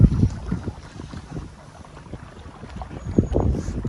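A small inflatable boat cruises against the wind on open water, its engine and hull slap blending with steady wind buffeting the microphone, with a few louder thumps of water near the end.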